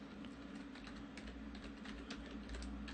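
Steady, close keyboard typing on a computer while a short line of text is entered, with rapid irregular clicks over a constant low hum and no talking.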